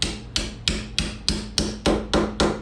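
A hammer strikes a trailer wheel bearing through a socket or block of wood, nine sharp, evenly spaced metallic taps in quick succession, close and loud.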